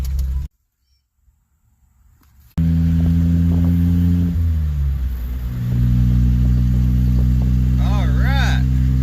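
A rebuilt 1991 Geo Metro engine of about 50 horsepower with worn rings idles with a steady low hum. It cuts out for about two seconds, restarts and settles into a slightly louder, even idle.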